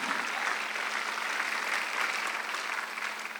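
A church congregation claps together during a Sunday worship service, a steady, dense wash of applause that holds at an even level for several seconds with no speech over it.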